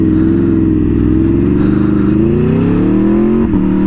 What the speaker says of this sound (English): I saw a car just passed us